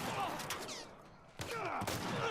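Shotgun blasts from The Last of Us Part 1, in two loud bursts with a lull between them, each trailing into echoing reverberation, with some faint voice in the mix.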